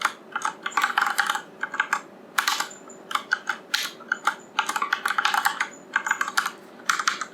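Fast, close keystrokes on a computer keyboard while Java code is typed, arriving in dense bursts separated by short pauses, with no one speaking.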